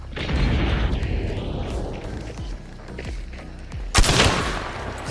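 Gunfire in a first-person shooter video game, several sharp shots scattered over a few seconds with a louder burst near the end, set against busy in-game background noise.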